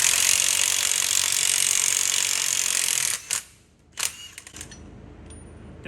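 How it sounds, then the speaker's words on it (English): A Milwaukee 600 foot-pound impact wrench with a 1 1/8 socket, working on a Ford Super Duty pitman arm, runs in a loud, continuous buzzing hammer for about three seconds, then stops, followed by a few short bursts and clanks. "got our little 600 foot-pound Milwaukee here with an 1 1/8 socket."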